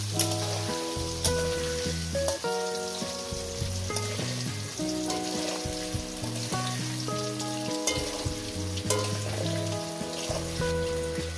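Potatoes sizzle and crackle steadily in hot oil, a continuous frying hiss with occasional pops and scraping stirs.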